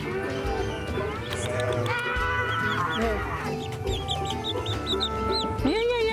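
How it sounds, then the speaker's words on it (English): High chirps and peeps from chicks in a farm animal petting area, mixed with clucking and other animal calls under ongoing voices. "And we have chicks over here."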